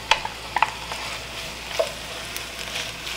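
Soft sizzle of chopped celery and carrot frying in a pan, with occasional sharp clinks and stirring scrapes, close and moderately quiet.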